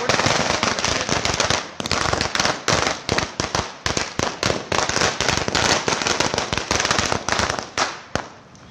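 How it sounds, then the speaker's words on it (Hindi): Firecrackers burst in dense, rapid volleys of loud cracks and pops through a market street during a Congress party victory celebration in Jogindernagar, Mandi, continuing almost without pause. "बाजारों में पटाखे यहाँ पे फोड़े जा रहे हैं"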